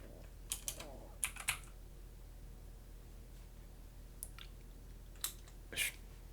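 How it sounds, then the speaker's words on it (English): Scattered bursts of keystrokes on a computer keyboard, a few quick taps at a time with pauses between, fairly close but quiet over a faint steady hum. "Keyboard."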